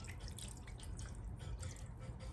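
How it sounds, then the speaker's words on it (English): Water poured into a slow cooker over cube steak, a steady close trickle and splash with no talk. "pour in our water."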